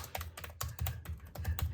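Typing on a Lenovo L14 Gen 3 laptop keyboard, with quick, close, clicky keystrokes in irregular bursts and brief pauses between them.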